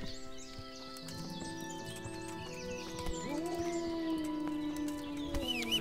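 Horse hooves clip-clop steadily with a whinny in the video game Kingdom Come Deliverance, moderately loud against game ambience with faint birdsong, no talk over it.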